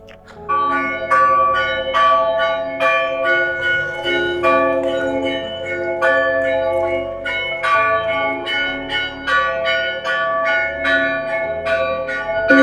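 Church bells in Kutaisi, Georgia, ring loudly and continuously, their overlapping strikes resonating in a steady pealing rhythm.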